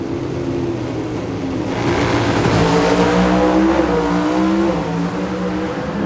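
Nitro drag race cars at the 1995 NHRA Keystone Nationals at Maple Grove roar down the drag strip, a loud, sustained engine howl rising in pitch as they accelerate, then fading slightly at the end.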